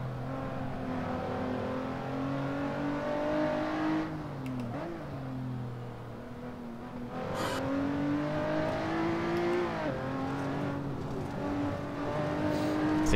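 A race car engine revs in Assetto Corsa, loud and close, its pitch climbing and dropping through gear changes over about thirteen seconds, with no talk.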